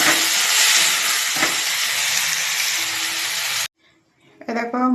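Potatoes dropped into hot oil with panch phoron and green chillies give a loud, steady, close hiss of frying that cuts off abruptly, followed by a brief voice.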